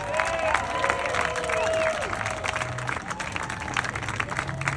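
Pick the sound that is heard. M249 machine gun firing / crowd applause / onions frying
crowd applause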